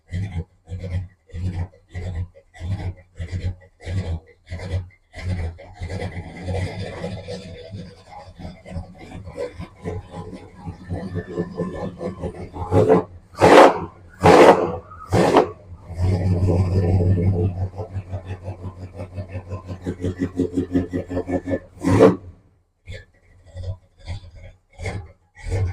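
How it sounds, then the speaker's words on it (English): A Dodge Power Wagon engine with a problem, puffing black smoke, idles in a slow, uneven chugging rhythm that swells and falters, with some speech in the background. "We'll let it idle."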